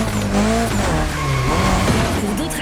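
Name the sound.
car drifting with tire squeal in The Crew Motorfest video game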